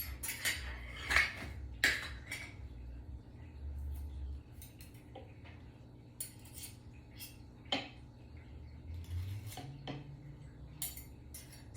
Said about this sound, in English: I just scooped the spoon in there, and I'm using a knife to go across to make sure that it's exactly 1 tablespoon